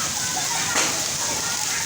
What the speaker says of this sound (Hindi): इतनी तेज़ बारिश है कि दोस्तों एकदम में पूरा बाज़ार जो है वो पानी के साथ भर गया है